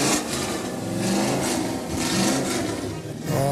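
A stock car engine rumbles and revs steadily nearby at a Christmas parade, a continuous mid-pitched roar with slight swells and a rise near the end.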